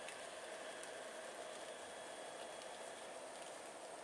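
Rain falls at an airport as a faint, even wash of hiss that holds steady for the whole few seconds, with no other sound standing out.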